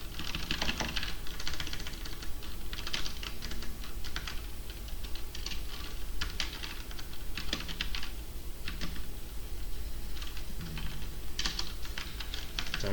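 Computer keyboard typing Python code, a steady stream of close key clicks in uneven bursts with brief pauses, no voices.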